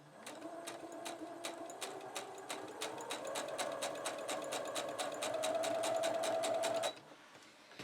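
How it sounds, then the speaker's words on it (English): Domestic sewing machine stitching fabric bunting flags onto bias binding, a close, fast rattling needle rhythm that runs steadily for about seven seconds, rising slightly in pitch, then stops abruptly. "Now then, this sewing machine is noisy."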